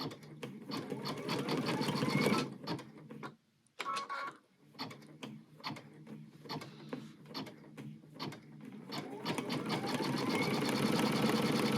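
An embroidery machine stitches a heart in-the-hoop bag design, a loud steady mechanical chatter of rapid needle strokes that briefly stops and restarts with short pauses before running continuously again, with no voices.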